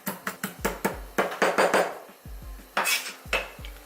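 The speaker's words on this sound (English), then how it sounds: "First, crush garlic" Garlic is crushed for a Korean sauce with a series of sharp knocks on a cutting board, about a dozen quick close thumps in irregular bursts with short gaps between them.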